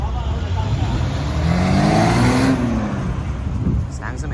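Engine of a classic red Jaguar E-Type revving loudly at a classic car show, a sustained rising and falling roar with outdoor crowd noise and voices around it.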